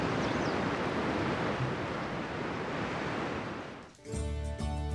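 Waves of the Sea of Japan roll in below the Shakotan cliffs in Hokkaido, a loud, continuous surf roar that breaks off near the end as a tonal sound takes over.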